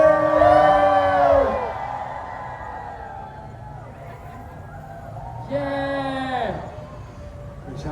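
K-pop fans at a PROXIE fan talk and photo session at Viu Hongdae Vibes let out two loud bursts of high screaming and cheering, the first longer and the second shorter after a lull of murmuring crowd.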